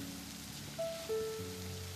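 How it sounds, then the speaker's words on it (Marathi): Monsoon rain falls steadily outside a village home during rice-planting season, a faint, even hiss with a couple of brief tonal beeps over it. "बघा आपल्या समोरच पाऊस दिसतो लगेच"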